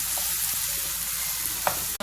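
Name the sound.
stirring minced beef, carrots, onion and ginger in a frying pan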